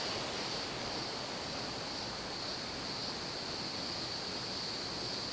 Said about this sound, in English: And the waterfalls are absolutely raging.